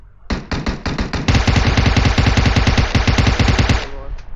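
Rapid automatic gunfire in a mobile battle royale game, loud and close, opening with a few separate shots then running into a long, dense burst that stops abruptly.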